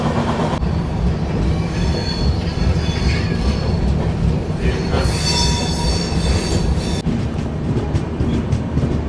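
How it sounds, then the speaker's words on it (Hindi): A Delhi-Mumbai AC special train runs loudly along the main line near Mathura, with a steady rumble, rhythmic wheel clatter and bursts of high metallic wheel squeal, no voices. "उसी पे आ गई है वापस ट्रेन जिस पे सचखंड एक्सप्रेस निकली थी।"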